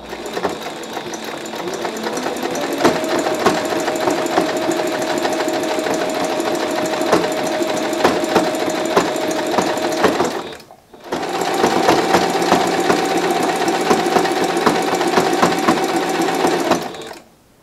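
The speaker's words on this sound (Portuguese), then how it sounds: "Terminei de costurar os 3 babados." Sewing machine stitching ruffles onto a machine cover, a loud, continuous close-up whirring hum with rapid needle chatter, running steadily, briefly stopping near the middle, then resuming before halting at the end.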